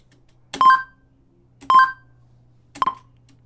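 Three short, bright chiming blips of a Scratch coin sound effect with a rising two-note shape, evenly spaced about a second apart against a faint low hum.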